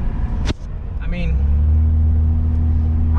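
An old-school BMW car more than 30 years old idles, then settles into a steady low engine hum while cruising, close and continuous, with a person talking briefly near the start.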